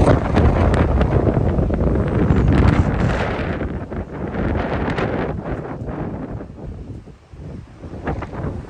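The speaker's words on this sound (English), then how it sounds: "Windy. Super windy." Heavy gusts roar across an open mountainside as a storm blows in, loud sustained buffeting that swells and eases over several seconds, with no speech.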